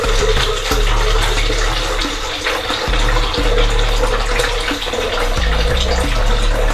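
Water pours steadily and loudly into a container in a home kitchen, a continuous gushing splash with no voices over it.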